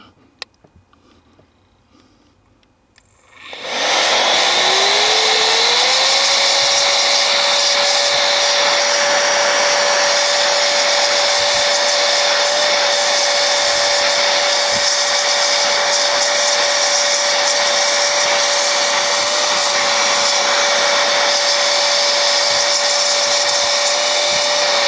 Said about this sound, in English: dry it off with this blower that I have right here, a little hand power blower